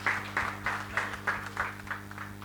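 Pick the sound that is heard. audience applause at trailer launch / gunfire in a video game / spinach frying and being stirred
audience applause at trailer launch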